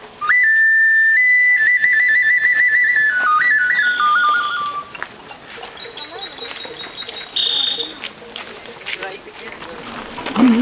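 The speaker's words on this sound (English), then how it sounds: "Jaguar whistle, jaguar noise." A jaguar whistle: a shrill, sustained whistle wavering between steady pitches for several seconds, then stepping lower and fading, with chatter and background noise throughout, at Chichen Itza, Yucatan, Mexico.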